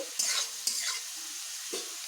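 Potatoes fry in a pan, giving a soft, steady sizzle with a few brief scrapes from a spatula near the start, close and without voices.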